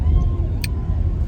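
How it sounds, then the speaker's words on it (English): Steady low road traffic rumble from passing cars fills the background, with a brief high chirp partway through and no speech. "And it's traffic too."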